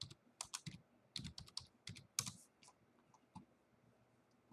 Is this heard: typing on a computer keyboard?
yes